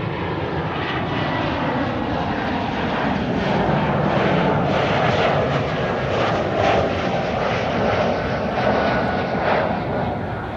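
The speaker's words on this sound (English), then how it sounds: "there's still the Embraer 190 to Copenhagen over there" An Embraer 190 airliner bound for Copenhagen at Amsterdam Schiphol produces a loud, sustained jet roar, a dense rushing drone that swells slightly mid-way and carries on alone without talk.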